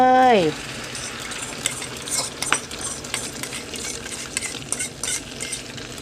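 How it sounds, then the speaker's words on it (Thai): Hot oil in a pan for a minced pork omelette sizzles and crackles steadily, with stirring clatter throughout, close and fairly loud after a brief vocal tone at the start. "เราก็เทสนะคะว่าน้ำมันร้อนหรือยัง"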